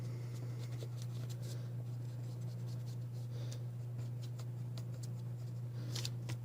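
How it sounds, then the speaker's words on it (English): Pen strokes scratch across paper as a physics diagram of X, Y and Z axes is drawn by hand, with close, irregular bursts of writing over a steady low electrical hum. "we're just going to draw a little diagram right here"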